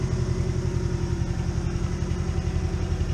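A 1992 Mazda B2200 pickup engine running with no exhaust, a loud, steady, close-up low rumble with rapid rhythmic pulsing and a faint clatter, continuous throughout with no voices.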